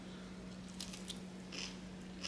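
Someone bites into grilled seafood, giving a few faint crisp crunches over a quiet background hum.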